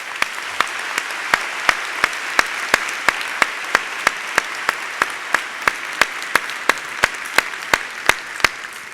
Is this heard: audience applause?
yes